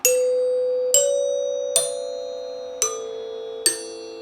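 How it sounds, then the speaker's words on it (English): A NuTone L60 Westminster bar chime with five tone bars sounds five separate struck notes about a second apart, each ringing bright and clear and then slowly decaying, with no voices. "This chime, the L60, has 5 tone bars. It's the only time NuTone ever did that, and each note is different."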